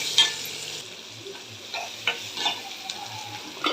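Onions sizzle in a hot pan while being stirred for a brinjal kara kuzhambu with curry leaves. A steady low fry is broken by several sharp scraping stirs.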